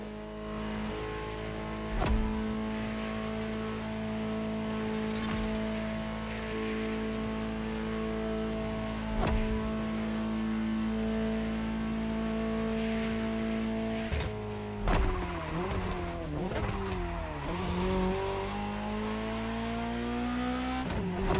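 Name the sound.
Ferrari GTO car driving in video game The Crew Motorfest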